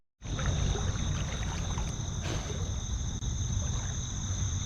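A newly found creek flows steadily with a broad, continuous rush of water, close and loud for several seconds, with a faint steady tone above it and no talking.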